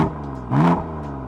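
A BMW M4 engine with a stock exhaust revs up once in a short, throaty burst, rising and falling quickly over a steady idle.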